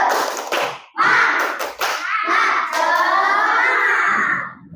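Group spirit-clapping chant at a teachers' working-group meeting, with sharp clustered claps at the start, then a run of loud voices chanting together at close range.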